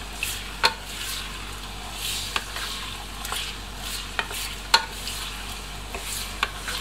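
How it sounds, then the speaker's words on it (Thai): Pork belly is stir-fried with fish sauce in a pan, giving a soft, continuous sizzle broken by the sharp scrape and clack of a spatula every second or so. No one speaks. "ช่วงนี้เราผัดไปเพื่อให้น้ำมันเริ่มรีดตัวจากเนื้อหมูแล้วก็ให้น้ำปลาเข้าไปซึม"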